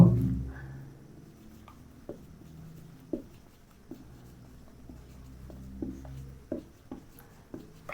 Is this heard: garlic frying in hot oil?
no